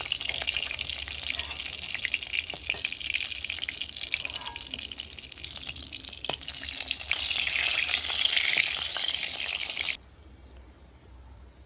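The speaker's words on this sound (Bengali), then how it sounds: "মাছগুলো ভাজা হয়ে গেছে লাল করে উঠিয়ে নেবো" Fish sizzles and crackles steadily in hot oil on a clay stove for about ten seconds, loud and close, then the sound drops away to near quiet.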